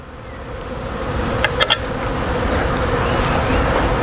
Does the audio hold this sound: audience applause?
no